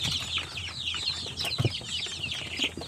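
Free-range chicks about 16 days old, soft clucks and high cheeping calls overlapping at close range, a busy chattering flock with a few louder peeps.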